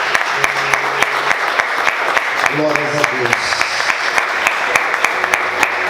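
Church congregation applauding strongly during a worship service, a steady dense wash of clapping lasting the whole stretch, with a voice speaking and singing over it partway through.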